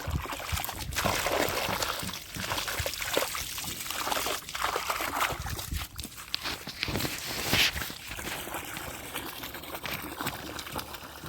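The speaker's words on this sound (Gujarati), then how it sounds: "પાણી ફૂલ ચાલુ કરી દીધું." Water running at full flow to fill a tank, a continuous loud rushing and splashing stream, close and unbroken throughout, with faint background noise.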